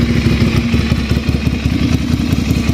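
A Ducati 795 motorcycle engine runs steadily close by, a loud rhythmic idle with a rapid pulsing beat and slight mechanical clatter.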